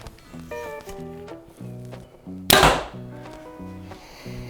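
A Quest Centec compound bow looses an arrow with one sharp, loud snap and thwack partway through, set against a soft, tonal background hum before and after.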